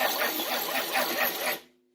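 A 1948 Dodge Custom sedan engine running with the number 1 spark plug unplugged on its first run after a rebuild: a dense, loud, steady mechanical churn with a rapid pulsing texture that cuts off abruptly near the end.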